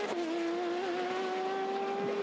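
A G-Drive Racing LMP2 prototype at Le Mans screams past with a sustained high engine whine that holds and rises slightly in pitch, loud and continuous with no voices.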